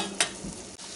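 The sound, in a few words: celery and onion cooking in melted butter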